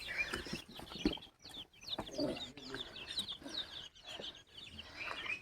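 Chickens clucking in short, scattered bursts close by, with other birds chirping faintly and a bit of rustling in the background.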